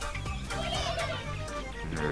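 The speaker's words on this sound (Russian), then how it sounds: "Издал звуки птицы." Bird calls from a video game, a rapid clucking, chicken-like chatter repeated in short bursts over a steady bed of game sound and music.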